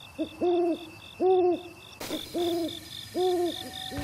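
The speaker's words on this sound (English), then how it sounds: "That classic deep sound belongs to the great horned owl." A great horned owl hoots in The Legend of Zelda: Breath of the Wild, a deep, clear series of rhythmic hoots repeating in close, loud groups over a faint steady tone, no talk.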